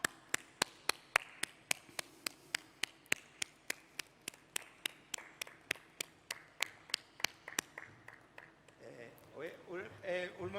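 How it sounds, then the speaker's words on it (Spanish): Sharp, evenly spaced claps in a slow steady rhythm, then looser clapping at an award ceremony honouring business excellence in Aragón, fairly faint and distant, with a voice speaking near the end. "Un aplauso, don Arturo Aliaga."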